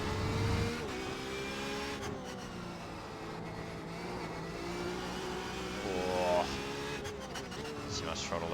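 A Porsche 911 RSR race car engine in a racing game drones steadily under throttle, rising and holding near full revs with brief pitch shifts, while a voice talks over it throughout.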